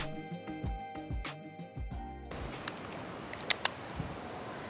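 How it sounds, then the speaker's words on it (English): A Rollei 35AF film camera gives a few quick mechanical clicks, including two sharp distinct snaps near the end, close and crisp over a quiet background. "Yeah, that shutter actually works."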